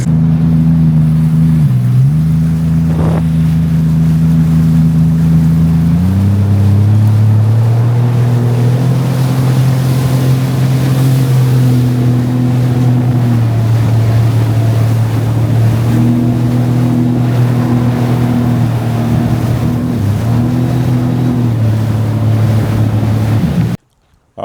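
A new Sea-Doo jet ski cruising on the water near Albany, its engine droning loud and close with a steady hum that dips and rises as the throttle shifts, running continuously before cutting off at the end.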